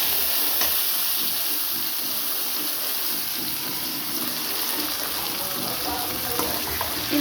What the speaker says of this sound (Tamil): இப్போ நம்ம அரைச்சி வச்ச விழுதை வந்து இதில் ஊற்றிக்கிறோம்